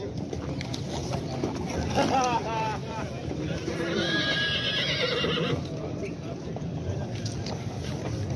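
Horses at a livestock market in Nookat whinny loudly and repeatedly, with clip-clop of hooves and a busy crowd of voices talking throughout the lively outdoor scene.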